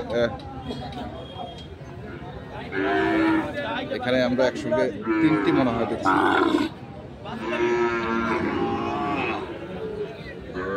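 Young Sahiwal bull calves low and call at a large livestock market in Dinajpur, with several bellowing moos rising over close-by voices talking continuously.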